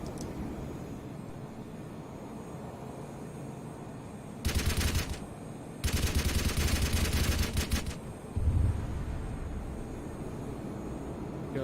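Gun bursts from a To-201 Shikra jet on a strafing run in Arma 3 rip out in three loud, dense strafing bursts over a steady jet engine drone, then the drone carries on alone.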